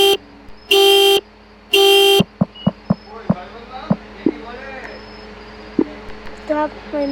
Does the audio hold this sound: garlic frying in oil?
no